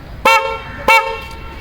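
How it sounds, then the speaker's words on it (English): Two short, loud honks from a Bosch dual-tone electric horn on a motorbike, sounding close by and spaced under a second apart. "The accessories I have put on my bike is the Bosch horn. It is a dual horn."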